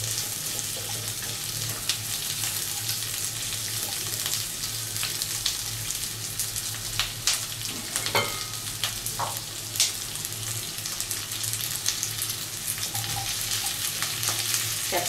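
Onions frying in a pan for kadai chicken, a bright continuous sizzle with spatters and occasional spatula scrapes, close and steady throughout, no speech.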